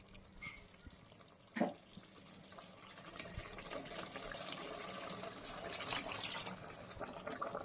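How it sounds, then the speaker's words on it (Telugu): Water pours steadily from a glass into a cooking pot for several seconds, a continuous filling rush after a couple of brief knocks. "ఒక గ్లాస్ వాటర్ వేస్తాను"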